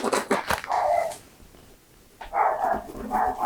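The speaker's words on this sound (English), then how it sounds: "And oh, those bloody dogs." Several dogs bark in quick, loud bursts nearby, fall silent for about a second, then start barking again in a sustained run.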